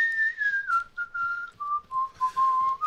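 A person whistles a theme song melody, a clear sustained tune sliding downward through several held notes with short gaps between phrases, close and alone.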